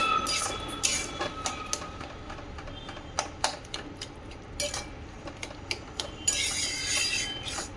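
Vegetables being stirred and turned in a pan, with a run of close, irregular scraping and clinking utensil strikes over a steady low kitchen background.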